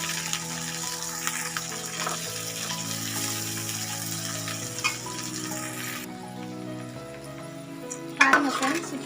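Okra sizzles in oil in a pan, a steady close frying hiss that quiets after about six seconds, with a brief clatter of utensils near the end.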